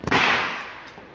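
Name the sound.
firecrackers and sky shot fireworks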